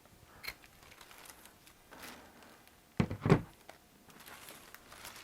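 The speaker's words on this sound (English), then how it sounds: "Kind of keep it toward the center and apply a grommet." A grommet is set by hand into the reinforced corner of an emergency blanket. A sharp double crunch of metal on metal is pressed through the foil about three seconds in, with faint crinkling of the blanket around it and no talk.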